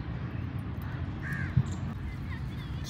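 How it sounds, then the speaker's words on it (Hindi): Myna birds calling in a park around sunset: a couple of harsh, squawking chirps at middle distance over a steady outdoor background hum. "See the myna birds."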